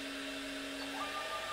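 A BigBox 3D printer with an upgraded Duet WiFi board homes its axes while the cooling fan runs, giving a steady fan whir under a faint motor whine that rises near the end.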